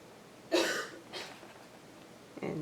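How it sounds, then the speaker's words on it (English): A girl coughing in another room, a few short, muffled hacking bursts spaced apart, faint and somewhat distant against quiet room tone. "And that's my daughter still coughing."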